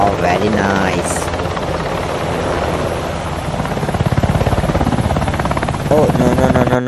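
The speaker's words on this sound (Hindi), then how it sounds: "तो चलो अभी अपने पास ये बचा है हेलीकॉप्टर, ओ तो चलो इसको लेके चलते हैं।" A toy helicopter gives a loud, continuous buzzing whir with a rapid rotor-like flutter. It runs throughout, with a voice talking over it.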